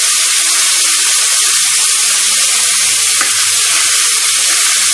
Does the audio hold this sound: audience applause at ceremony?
no